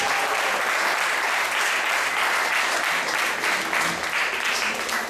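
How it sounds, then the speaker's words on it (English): An audience in an ISKCON temple in Atlanta gives a loud, dense round of applause during a Sunday class, continuous clapping from many people filling the whole stretch. "Let's give a round of applause for this wonderful."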